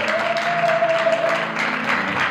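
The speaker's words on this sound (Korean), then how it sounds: "박수로 맞춰 주시기 바랍니다." A crowd applauding with steady, dense clapping at a TV drama press conference; a thin tonal whine rings briefly near the start.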